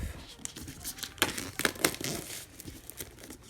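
Quiet crinkling and snipping of a thin plastic seal cut with scissors up close, a series of short crisp cuts and rustles.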